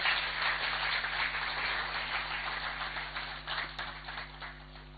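An audience of Ghanaians in Zambia applauds the foreign minister. The clapping is dense and steady, fading slightly toward the end, heard through a low mains hum.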